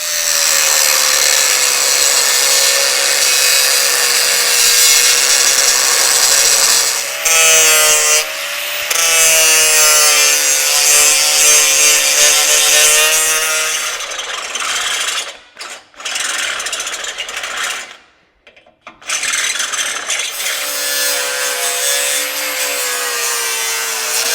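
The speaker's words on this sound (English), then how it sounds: "Now I'm going to come in here and just cut these two off, grind them clean" Old metal mounting tabs on an 80-series Land Cruiser are cut off and ground clean, a loud sustained high-pitched grinding whine with shifting pitch, broken by short pauses and a longer drop near the end.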